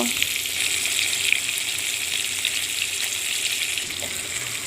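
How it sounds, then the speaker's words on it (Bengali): Fish frying in hot oil in a pan over medium heat, a steady close sizzle and crackle running evenly throughout with no talking. "মাছটা উল্টিয়ে এপাশ ওপাশ ভালোভাবে ভেজে নেব।"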